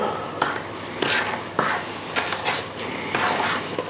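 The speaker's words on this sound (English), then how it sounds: "We give it a good sort of stir." Strawberry jam with pectin setter being stirred in a pot by hand, a close run of repeated scraping strokes and light clinks at an uneven rhythm, with no talk.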